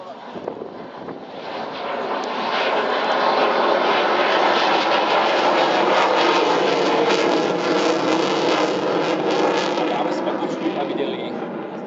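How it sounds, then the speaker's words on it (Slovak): A MiG-29 fighter jet roars with its twin RD-33 engines on afterburner, a loud, sustained broadband rumble that swells and holds steady; a voice talks over it. "Efekt prídavného spaľovania dvojice motorov RD-33, ktoré slúžia k pohonu lietadla MiG-29."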